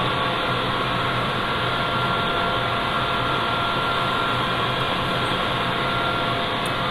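Egg conveyor and processing machinery on a farm, a loud, continuous mechanical whir and hum running steadily throughout with no pauses and no voices.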